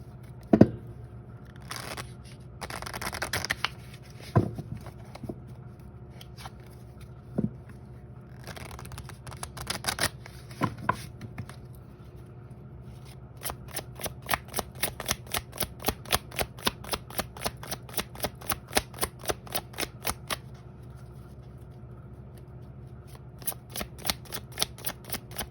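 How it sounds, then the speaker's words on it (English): A deck of tarot cards being shuffled alone, with scattered riffles and slides early on, then a steady run of crisp, close card flicks in quick rhythm toward the end. "as I shuffle the rest of whatever's going to come out"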